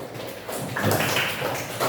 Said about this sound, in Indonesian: Ya, kita beri tepuk tangan buat kita semuanya.